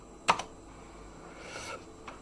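Typing on a computer keyboard in a quiet room: a sharp pair of key clicks near the start, then softer scattered keystrokes over a low steady hiss, close and alone without talk.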